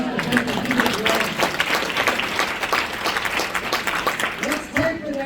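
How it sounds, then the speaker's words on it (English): Audience applause for a volunteer at a magic show, a dense, steady wash of clapping filling the whole stretch, with a voice talking over it. "Give a round of applause to Jacob."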